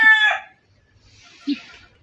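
Giant chickens heard close by: a loud harmonic crow at the start, then quiet, then a short low cluck with faint scratchy background.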